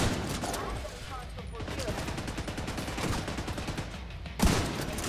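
Rapid automatic gunfire in The Division 2 video game, dense bursts of shots crackling almost without pause, with a sharper louder blast near the end and a voice speaking over the shooting.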